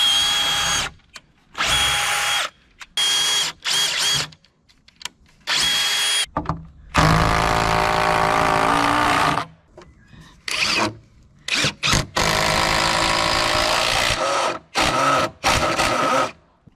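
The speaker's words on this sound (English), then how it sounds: "drilling my pilot holes, screwing it together." Power drill boring pilot holes and driving screws into the wooden corners of a raised garden bed, loud whirring bursts that start and stop repeatedly, close by, with short pauses between.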